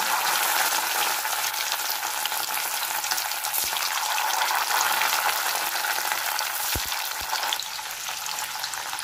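Paneer pieces shallow-frying gently over lowered heat in a pan, a steady broadband sizzle throughout with a couple of faint clinks near the end.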